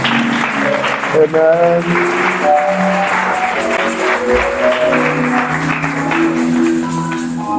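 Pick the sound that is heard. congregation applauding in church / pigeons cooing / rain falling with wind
congregation applauding in church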